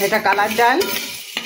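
Banana stalk frying in a pan, a soft sizzle under someone talking close by, with a few light clinks near the end.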